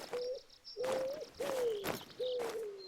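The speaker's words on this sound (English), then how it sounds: "think that's a bird I can hear." A bird calls in the video game theHunter: Call of the Wild: four clear, tonal whistled notes, each gliding slightly downward, spaced about half a second apart over faint ambient outdoor sounds.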